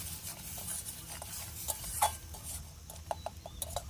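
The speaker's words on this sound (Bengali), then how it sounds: "দিয়ে আবারও গুঁড়ো মশলাকে ভালো করে কষিয়ে নেব" Ground chili powder and other ground spices with salt and a little sugar are stir-fried in a pan, a soft low sizzle under repeated close scraping and clicking strokes of a spoon against the pan.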